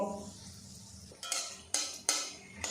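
A semolina and gram flour snack frying in a pan sizzles quietly under several sharp metal clinks and scrapes of a utensil against the pan, coming in uneven bursts up close.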